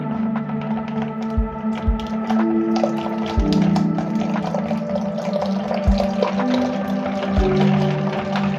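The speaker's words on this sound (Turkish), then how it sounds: "Bir su bardağı sıcak su ekliyoruz. Eklerken çırpıyoruz" Hot water poured into soup while whisking, a steady running splash with repeated clinking taps of a whisk against the pot.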